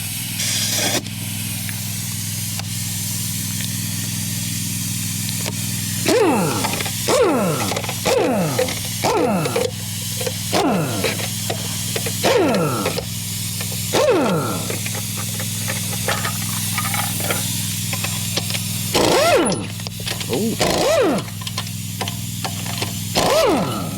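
An air impact wrench removing 7/8 lug nuts from a truck fires in repeated short rattling bursts, each with a rising whine, against a steady compressor hum and hiss.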